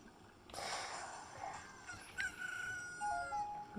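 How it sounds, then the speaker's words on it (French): A chicken hatches from an egg in Zelda: Ocarina of Time, giving a short, rooster-like crowing call over a steady bed of game background sound, followed by a few brief tonal blips. "Une poule est sortie de l'œuf"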